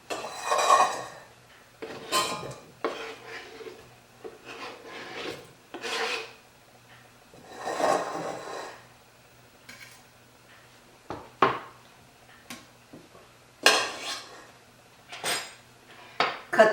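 Leftover pasta and meatballs scraped and set into a metal pan, giving a run of short clattering, rasping bursts of utensil against cookware, loud and close, with quiet pauses between them and no talk.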